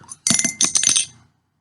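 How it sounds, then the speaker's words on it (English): A metal beer bottle cap drops and clinks against a hard surface several times in quick succession, close and bright, then goes quiet. "That was the sound of the beer top falling off."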